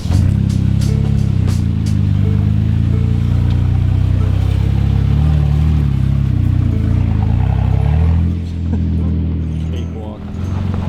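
A Jeep Wrangler JK with 5.38 gears climbs a hill off-road, its engine laboring in a loud, sustained drone with clattering and a brief easing near the end.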